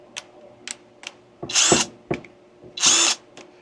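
A power drill runs in several short bursts, each a clear whir, with two longer, louder runs as speed levels and the reverse switch are tried; clicks sit between runs.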